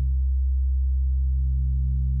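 An FM synthesizer bass patch with its sustain level raised holds a loud, steady low tone that does not decay, sounding alone throughout.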